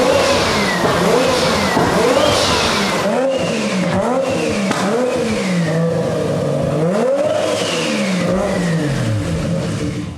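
Mazda FD with a turbocharged three-rotor rotary engine revving hard in repeated rising and falling sweeps, loud and close, with a raspy, buzzing tone.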